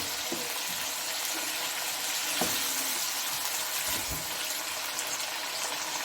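Boneless mutton frying in a pan with a steady, hissing sizzle and occasional soft pops and clinks, close and moderately loud with no talking.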